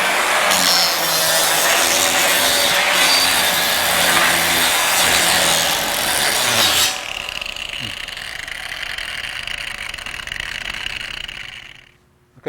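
A steel channel edge is deburred for a straight steel stair, a loud harsh grinding rasp for about seven seconds, then a quieter hum trailing off to near silence.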